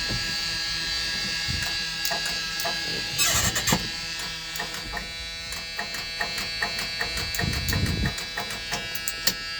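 On a 1987 Dodge D100 pickup, the starter gives a steady electric buzz without the engine cranking, a continuous close whine broken by scattered clicks and a couple of louder thumps.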